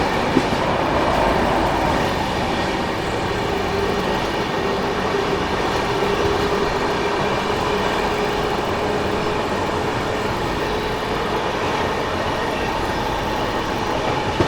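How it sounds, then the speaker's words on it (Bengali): Loud, steady rumble of the Humsafar Express, an AC three-tier passenger train from Jammu Tawi to Sealdah, heard from on board as the wheels roll over the rails with faint clickety-clack and no talk. "হামসাফার এক্সপ্রেস উনিশশো পঞ্চাশ কিলোমিটারের জার্নি পঁয়ত্রিশ ঘন্টায় কিন্তু পূর্ণ করে"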